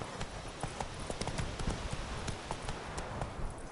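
Hooves of a trotting horse in The Witcher 3 clip-clop in a quick, steady rhythm, close and clear over a soft background wash, with no talking.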